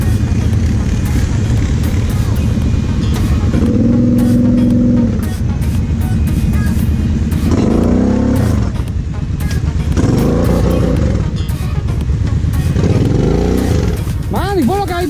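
A Polaris 800R XXC quad drives on muddy off-road trails, its engine droning and revving up and down in repeated swells, up close, while people talk over it.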